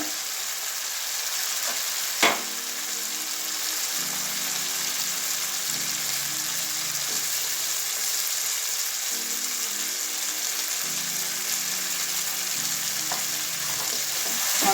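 Fried eggplant sizzles in a pan of cooked-down spices and tomato, making a steady, even hiss with one sharp clack from the spoon. A soft tonal murmur sits low in the background.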